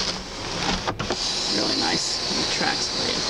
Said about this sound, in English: And you've got your sunroof. Retracts, opens up beautifully for you.